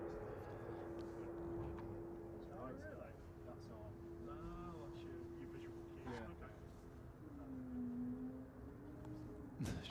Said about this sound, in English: So the Air France again in the background.